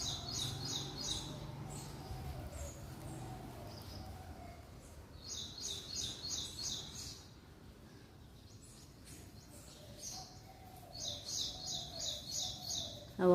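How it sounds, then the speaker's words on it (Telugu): Birds in an early morning summer garden chirp in three repeated bursts of quick, high trills, fairly faint over a quiet background hum. "బర్డ్స్ ఇప్పుడే లేసినాయి,"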